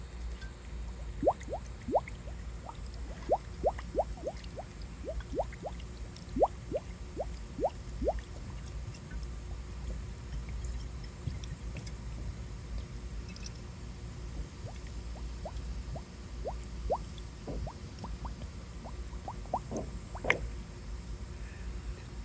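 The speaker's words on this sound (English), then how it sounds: "we're gonna fill that with water" A clear 2-liter PET plastic bottle fills with water, with irregular bubbling glugs and drips that come in scattered bursts over a steady low background wash. No one speaks.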